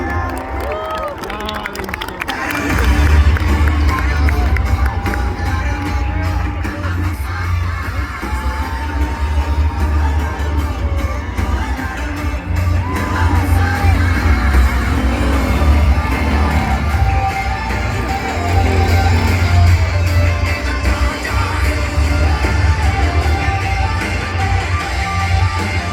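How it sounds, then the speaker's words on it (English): A large crowd cheers and applauds loudly as the Hot Wheels stunt team comes out at a live show, a sustained roar of clapping and shouting with an announcer's amplified voice over it. "Give them a round of applause, everybody, as they come out."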